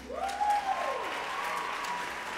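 A church congregation clapping for the Lord, a fairly loud wash of hands under a sustained sung or instrumental tone that bends in pitch, with no spoken words.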